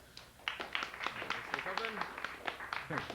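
An audience at the 2008 PEGASYS Awards ceremony applauds, a run of sharp claps from close by mixed with a voice talking through it.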